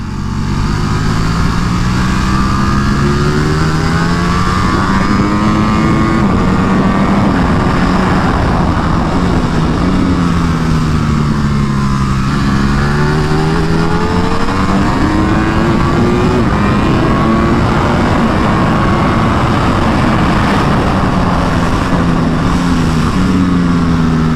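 A Ducati Panigale V4 R roars continuously at a track day, its engine note sweeping up and down through gear changes and corners, loud and close throughout with wind rush and no break.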